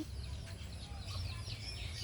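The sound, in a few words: junglefowl clucking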